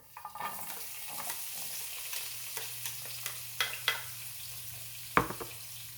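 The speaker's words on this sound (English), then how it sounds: "I think that's hot enough. My onions in here." Onions sizzle in a hot pan with a steady frying hiss and scattered stirring clicks, the strokes growing louder toward a sharp clack near the end, up close and without voices.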